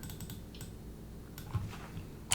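Computer keyboard typing, a quick scatter of light key clicks close up in a quiet room, ending with a sharper tap.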